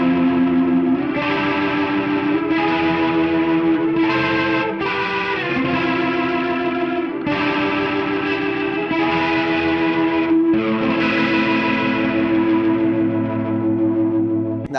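Electric guitar intro played through a pedal board, heavily processed with distortion, echo and chorus, giving a loud, sustained, shimmering wash of chords that runs continuously with no pauses and no talking.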